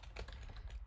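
Quick, faint clicks of fingers typing a short word on a computer keyboard, close by and alone.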